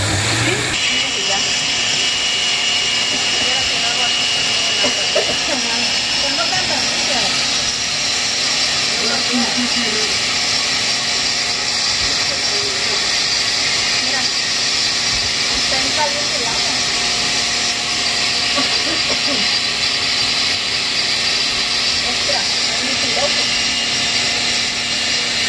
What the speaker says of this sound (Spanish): Se va a quemar la licuadora.